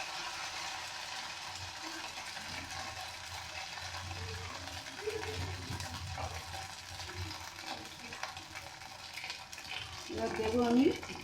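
Ginger paste sizzles in hot oil in a pan for aloo dum, a low, steady frying hiss with stirring scrapes and a louder burst of sizzle near the end, over a faint background hum.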